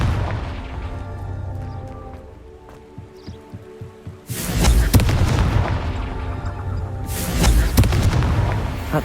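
Two loud, booming blasts from the Confringo fire spell in Hogwarts Legacy, each a sudden broadband burst that rumbles on, the first after a stretch of quieter game ambience with soft thumping.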